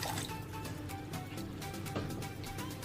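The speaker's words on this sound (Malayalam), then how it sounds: "ഇനി ഇതിലേക്ക് തിളപ്പിച്ചാറിയ വെള്ളം നമുക്ക് അതിനകത്തോട്ട് ഒഴിച്ചു കൊടുക്കാം" Boiled and cooled water poured into simmering prawn pickle makes a soft, continuous liquid trickle with faint splashes, fairly quiet and close.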